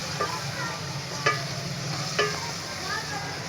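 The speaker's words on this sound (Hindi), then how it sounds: "तो कीमे को अच्छी तरह 5 से 7 मिनट तक अब अच्छी तरह फ्राई करें" Beef mince (keema) frying on high heat, a dense continuous sizzle with occasional sharp spatula scrapes against the pan, close and steady.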